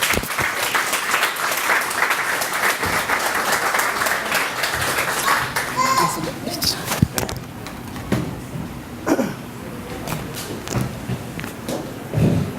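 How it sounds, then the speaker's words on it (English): A crowd applauding a special guest at an evening book-signing event, steady clapping for several seconds that thins into scattered claps, thuds and shuffling footsteps as the room settles. "round of applause for Mr."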